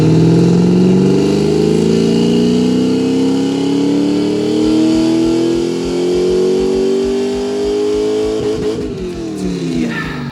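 Loud V8 engine swapped into a Mazda Miata, fitted with a big cam, revving up steadily with a lopey, uneven exhaust note that climbs in pitch, then chops into rapid pulsing near the end.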